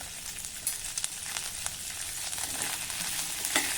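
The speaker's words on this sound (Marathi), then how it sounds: "हे तेल गरम झालं की यामध्ये थोडी हळद घालूया. सोललेले पावटे घालू आणि एक मध्यम आकाराचा बटाटा घालणार आहे." Shelled pavta beans and a potato frying in hot oil with turmeric, a continuous close sizzle with scattered sharp crackles and pops, no talking.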